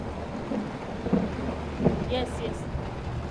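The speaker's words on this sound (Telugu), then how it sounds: "భారీగా వర్షం కురుస్తోంది, ఉరుములు మెరుపులు కూడా వినిపిస్తున్నాయి" Heavy rain pours down steadily in Hyderabad during a thunderstorm, a dense hiss with a couple of dull thunder thumps rising briefly above the downpour.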